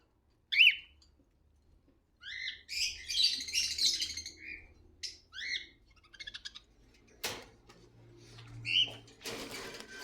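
Peach-faced lovebirds in a breeding cage let out sharp, high chirps and squawks in scattered bursts, some close and loud, with short quiet gaps between the outbursts.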